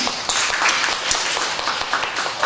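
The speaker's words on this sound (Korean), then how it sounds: "큰 박수 한번 하겠습니다" Church congregation clapping during a worship service, a dense, fairly loud patter of many hands with scattered sharper claps, steady across the whole stretch.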